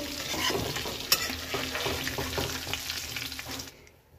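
Chicken pieces fry in oil with a close, busy sizzle and crackle, punctuated by stirring scrapes and one sharp utensil tap, fading out abruptly at the end.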